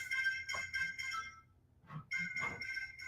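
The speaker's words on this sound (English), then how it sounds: "my phone was ringing" A mobile phone rings in a bright electronic melody: two bursts of tones, a pause, then the ringtone resumes, fairly close and alone in a quiet room during a quilting session.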